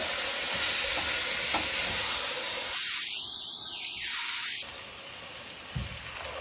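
Ground meat and chopped onion brown in a hot pan, a loud, constant hiss and crackle of sizzling fat, with a brief scraping stir near the middle and the frying dropping a little toward the end.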